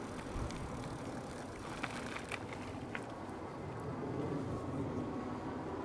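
Mokwheel Tarmac ST electric bike rolling along a bike trail in pedal assist, with steady wind and tire noise and a few faint clicks, no talking.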